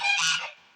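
A single loud, close goose honk, brief and nasal, fading quickly.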